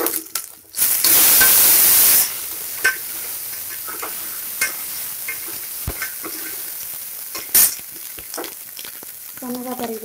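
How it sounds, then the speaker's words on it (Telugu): Thinly sliced onions with a little salt fry in a pan with ginger garlic paste, dried red chillies and curry leaves, giving a loud sizzling burst at first, then a steady crackle with light stirring clicks. "సన్నగా తరిగి పెట్టిన ఉల్లిపాయ ముక్కలు, కొద్దిగా సాల్ట్ వేసి వేయించుకుందాం."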